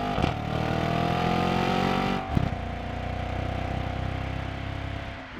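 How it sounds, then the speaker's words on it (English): A 2013 Audi RS5 in sport mode, redline around 8,500 rpm, revs with a loud, steady engine drone and a brief dip near the middle before it climbs back. No one speaks over it. "Revving it, revving it."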